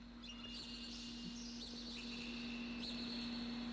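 Small songbirds chirp and tweet in short scattered calls at a venue in upstate New York, fairly distant and soft over a steady low hum.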